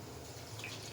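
Water is poured steadily into a pot for tomato biryani, a soft continuous splashing trickle heard alone at low volume.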